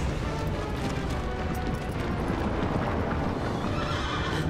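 A horse in the video game Shadow of the Colossus gallops with dense, rapid hoofbeats under loud rumbling action, with neighing mixed into the continuous, full-volume din.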